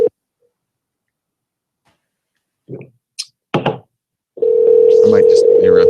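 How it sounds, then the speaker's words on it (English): A telephone number is dialed live on air, with a few short tone bursts and knocks followed by a steady, loud dial tone that runs to the end. No one speaks. "Let's dial another number here."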